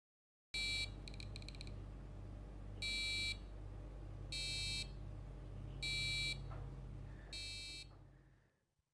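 A small electronic buzzer on a hobby electronics board sounds in five short repeated bursts, one with a rapid stuttering pattern, alternating with pauses against a steady low hum and quiet background.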